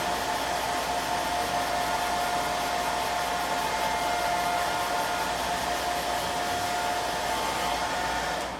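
A hair dryer drying paint on an upcycled metal tray blows in one steady, unbroken roar, with a constant whine, held close for the whole stretch.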